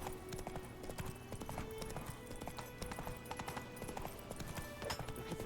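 Horse hooves clip-clop steadily in The Witcher 3, a quick, even rhythm of close hoofbeats over a dense bed of in-game ambience and music, with no voices.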